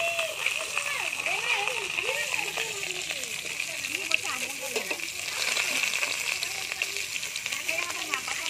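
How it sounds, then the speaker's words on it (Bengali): Beans and potatoes fry together in a pan, a continuous close sizzle with spattering, while a person talks over it throughout. "এতেই আমি সিমটা দিয়ে ভেজে নেব।"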